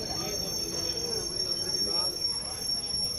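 The 13173 Sealdah–Agartala Kanchanjunga Express rolls into platform 2 of a station in the rain, giving a steady low rumble with faint wheel squeal. A high electronic tone persists throughout, and voices murmur nearby.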